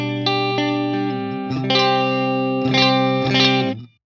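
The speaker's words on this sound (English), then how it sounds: "So I'm starting with the compressor because this is a very dynamic guitar." Electric guitar played through a compressor pedal, sustained chords ringing evenly with smoothed, squeezed dynamics, a few strums across the clip before the notes cut off cleanly at the end.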